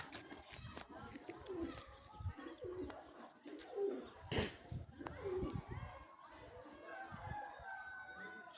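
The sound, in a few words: pigeons cooing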